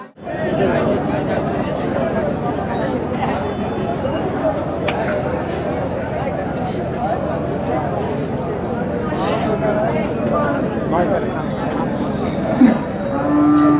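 Cattle low among the crowd at the busy Chakan bull market, with continuous chatter and voices of people talking and bargaining over the animals.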